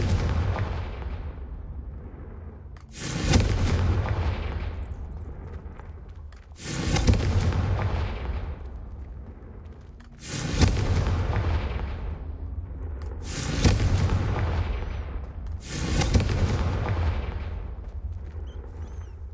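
Confringo blasting spells explode in Hogwarts Legacy: five loud, booming blasts arrive every three seconds or so, each with a long rumbling decay that fades before the next hit.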